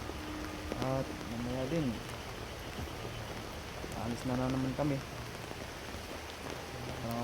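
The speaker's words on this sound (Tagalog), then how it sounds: "Sobrang lakas pa ng ulan tol." Heavy rain pours steadily on a surface outdoors, a constant wash of noise under someone speaking briefly in Filipino.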